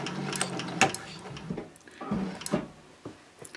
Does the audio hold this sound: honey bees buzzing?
no